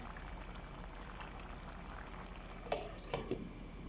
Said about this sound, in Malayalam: ഞാനിവിടെ തിളച്ച വെള്ളമാണ് ഒഴിക്കുന്നത്